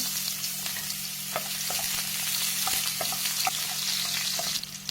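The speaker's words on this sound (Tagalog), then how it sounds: "Ilagay natin yung sibulyon" Onions frying in a hot pan for a shrimp, misua and patola dish, a continuous bright sizzle with occasional soft clicks of stirring, close by and without talk.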